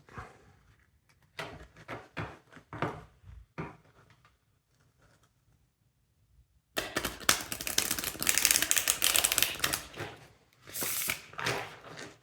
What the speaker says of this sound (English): First I will shuffle.